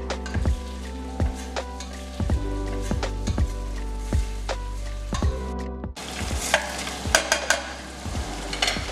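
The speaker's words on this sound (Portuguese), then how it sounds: "E agora colocamos" Shrimp and garlic sizzling in a generous splash of olive oil in a pan, with steady frying crackle and repeated stirring scrapes throughout, a brief pause, then a brighter, hotter sizzle.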